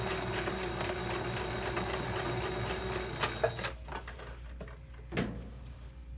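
A sewing machine stitches a row of fabric for a homemade heat pack, a close, rapid, even whirring chatter that stops about halfway through, followed by scattered clicks and handling taps.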